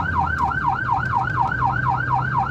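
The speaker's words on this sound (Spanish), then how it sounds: "Las ambulancias debieron sortear el trancón" An ambulance siren wails while working through a traffic jam near Jamundí and Cali, a loud rapid up-and-down yelp repeating about four times a second over a low traffic rumble, with no talk.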